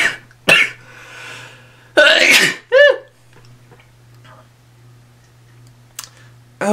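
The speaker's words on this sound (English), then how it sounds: "I gotta sneeze." A person sneezes during a makeup session, with a sharp burst followed by a second explosive sneeze and a brief squeaky breath, close and loud against an otherwise quiet room with faint hum.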